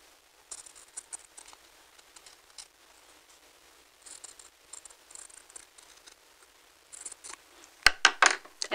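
Scissors snip close to the stitches while trimming fabric for a sewing lesson, a quiet run of soft, irregular cuts and rustles that ends in a few louder, sharper snips.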